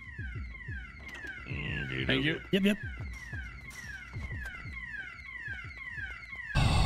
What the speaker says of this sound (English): Alarm's gonna be there forever now.